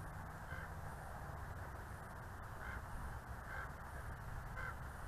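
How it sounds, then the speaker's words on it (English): Crows caw outdoors in several separate calls spaced a second or so apart, moderately distant over a steady background hum from a drone flying nearby. "There's a couple of birds."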